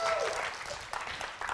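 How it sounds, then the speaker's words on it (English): Audience applause at a CityJS Singapore 2024 conference talk, a steady wash of clapping from a crowd in a hall, loud at first and then easing off, with scattered sharper claps toward the end. "Can we make some noise and give applause?"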